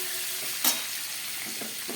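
Green chillies and tomato pieces frying with vegetables for a cauliflower katla fish dish, a continuous close sizzle broken by a sharp spatter burst and a few soft stirring scrapes, no voices.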